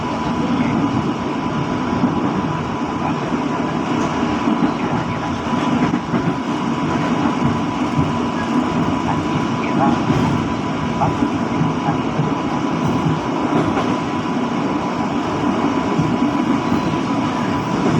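A commuter train at Sawah Besar station produces a loud, steady rumble with faint rail clatter that carries on without a break throughout.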